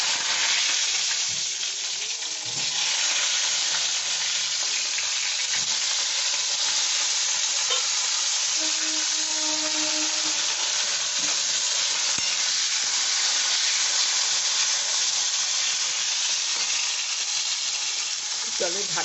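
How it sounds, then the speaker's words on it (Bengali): Eggplant pieces frying in a pan for curd eggplant: a loud, constant sizzle and hiss close up, with brief clatters and faint stirring sounds in the background. "আমি এখন বেগুনগুলো দিয়ে ভেজে নেব।"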